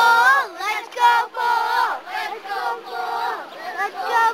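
A team cheers loudly on command, a crowd of voices chanting together in rhythmic rising shouts that swell and dip continuously.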